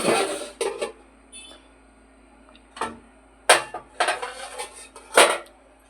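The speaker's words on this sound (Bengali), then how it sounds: "তো এবার আমি ঢাকা দিয়ে খুলে দেব" A lid lifted off a cooking pot holding a fish curry with mustard paste, heard as a series of sharp metallic clanks and clatters in separate bursts with quiet gaps between, close and fairly loud, with no talk.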